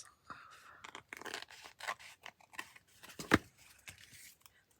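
Scissors snip and trim a paper tag in a craft setting, giving a run of quiet, close, irregular cuts and rustles, with one sharper, louder snip near the end.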